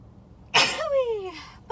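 A single sharp sneeze bursts out, close and loud, followed by a brief voiced tail and a short exhale.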